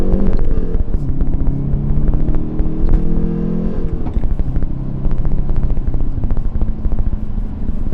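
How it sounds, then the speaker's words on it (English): A Hyundai Veloster N accelerates hard with loud wheel hop. The engine roars and revs close by for the whole stretch, with rough, juddering pulses running through it. "There was definitely some wheel hop there, like a lot of wheel hop."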